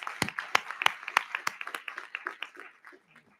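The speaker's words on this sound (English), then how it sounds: "let's give them one final big thank you and round of applause" Sparse applause from a small audience at a school board meeting, distinct claps close by that thin out and fade over a few seconds, with a faint voice near the end.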